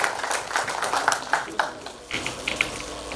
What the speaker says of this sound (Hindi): एक बार जोरदार तालियां श्री डावर साहब